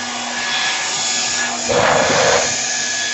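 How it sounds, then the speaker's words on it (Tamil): A hotel bathroom hair dryer runs with a steady whooshing airflow hiss that swells louder briefly midway, then settles back. "இது வந்து ஹேர் ட்ரையர் குளிச்சுட்டு வந்து தலைமுடியை காய வச்சுக்கலாம்"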